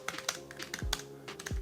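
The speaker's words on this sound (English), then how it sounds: "we are going to test out typing" Typing on a small portable folding keyboard from AliExpress: a quick run of close, soft key clicks with a couple of heavier thumps, alone.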